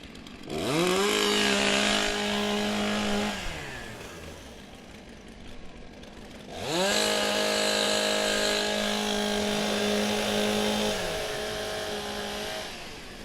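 Chainsaws at a STIHL Timbersports pro championship in New Zealand rev loudly together as they warm up, with steady high engine whine in two long bursts and a brief lull between them.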